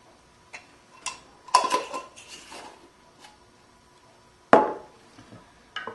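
A utensil stirs yogurt into heavy whipping cream in a bowl, giving scattered soft scrapes and clinks with one sharp knock against the dish, close and otherwise quiet.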